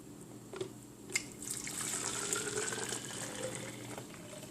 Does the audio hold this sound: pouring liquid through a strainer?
yes